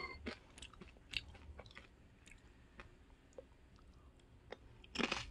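Crisp crunching bites and chewing up close on a crispy brown-rice scorched rice (nurungji) snack, irregular sharp crackles with a louder burst at the end, no talking.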